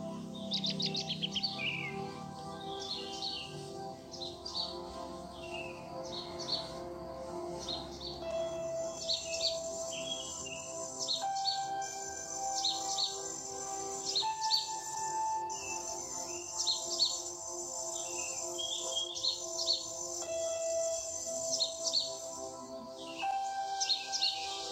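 Wild birds in Penggaron forest chirp and trill in repeated high calls over a soft insect hum, steady and moderately distant with no voices.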